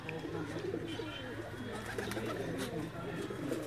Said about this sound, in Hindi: ये भी इंडियन कबूतर ही है,